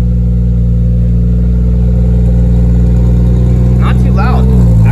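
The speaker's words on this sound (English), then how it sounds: "this is how the exhaust sounds with the cat" A Toyota Supra Mk4 with a 2JZ-GE turbo engine and high-flow catalytic converter rumbles loudly and deeply at idle through its exhaust, holding steady before a brief rise in engine pitch near the end.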